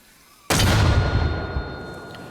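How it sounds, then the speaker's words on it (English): A mortar fires in Arma Reforger: one sudden, loud boom that rolls off into a long fading rumble. "Come on, fire mortar"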